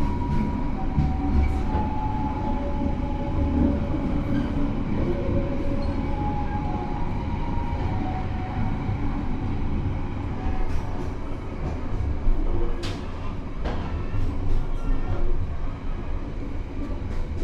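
A premium economy passenger train on the Jakarta–Yogyakarta line, heard from inside as a continuous loud rumbling ride with rail clatter and occasional brief metallic squeals over about seventeen seconds.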